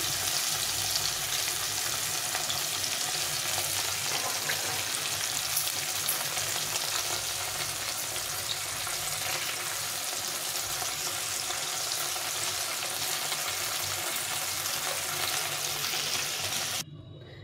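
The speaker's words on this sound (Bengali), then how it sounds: "মাছগুলো ভেজে নিই।" Hilsa fish pieces frying in oil, heard as a dense, continuous, close crackling sizzle that holds steady throughout and cuts off sharply near the end.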